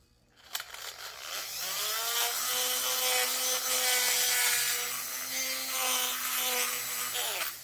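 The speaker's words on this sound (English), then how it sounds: "I'm going to take this burr ball and I'm going to go down here in the intake and I'm going to open the intake up" A rotary tool with a burr ball porting the intake of an Echo 2511t chainsaw spins up to a steady, close high-pitched whine, its grinding pitch wavering slightly as it cuts the metal over several seconds.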